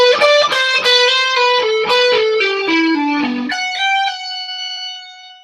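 A distorted electric guitar plays a quick descending run of notes, then slides up into a sustained ringing note that fades.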